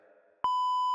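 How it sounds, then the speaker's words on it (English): A single sustained electronic beep, a pure steady tone, cuts in sharply after a faint murmur of muffled voice and holds loud and unchanging to the end. "How many beeps is this going to take"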